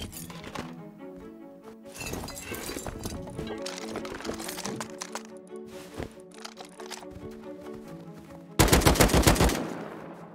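Gunfire in the Rust video game, bursts of rapid automatic shots and single cracks over several seconds, ending in a loud close volley, with no voices.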